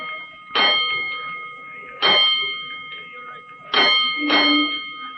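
Firehouse alarm bell striking in sharp metallic clangs, four rings at uneven intervals each ringing out and fading, clear and fairly close.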